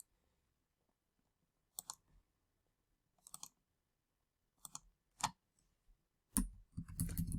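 Computer keyboard being typed on to enter a zip code, sparse clusters of quiet, close key clicks with pauses between them, ending in a brief faster run.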